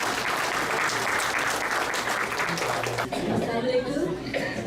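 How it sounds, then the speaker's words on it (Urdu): Applause during an online Zoom family-and-friends memorial meeting, a continuous patter of clapping with faint chuckles and chatter mixed in, easing slightly toward the end. "ایک دفعہ پھر ان کے لیے تالیاں۔"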